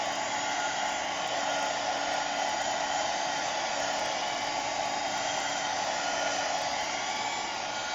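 A heat tool for heat embossing a card blows a steady, loud, airy whoosh like a hair dryer, unbroken from start to finish with no talking.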